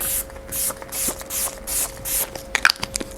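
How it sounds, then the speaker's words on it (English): Six quick hissing sprays from a spray bottle in an even rhythm, close by, followed by a few small clicks. "I'm gonna go in with some Switchbeauty Superhero setting spray"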